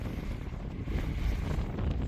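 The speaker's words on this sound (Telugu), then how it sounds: "డస్ట్ స్టార్మ్, ఇసుక తుఫాను." Strong desert wind from a dust storm in Death Valley, California, roars and buffets continuously, a rough low rumble swelling slightly in gusts with no voices.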